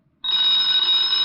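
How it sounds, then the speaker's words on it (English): A telephone bell rings once in a radio crime drama, a single sharp, loud, sustained ring starting abruptly from silence. "Get the phone, Walt"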